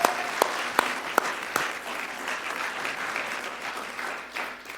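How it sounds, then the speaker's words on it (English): Applause from an audience at a State of the City address, honoring city staff: a steady wash of clapping lasting several seconds, a few sharp individual claps standing out at the start. "I paused for applause"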